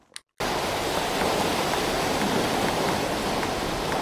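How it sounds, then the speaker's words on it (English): Sea waves added as a sound effect in a freestyle music session: a steady, loud broadband wash of surf begins abruptly after a brief quiet moment and continues unbroken with little variation. "And then we're gonna bring in some sea waves."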